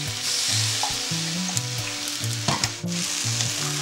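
Shrimp and vegetable stir-fry with soy sauce sizzles steadily in a pan, a continuous close frying hiss broken by a few stirring scrapes and clatters, with no talking.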